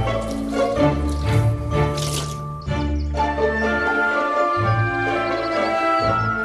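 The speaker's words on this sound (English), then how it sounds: "I'm ready to rinse it all off." Water splashing and dripping while hair is rinsed, trying out a wartime-era wash; close, continuous liquid pouring and squishing with brief gaps, no speech.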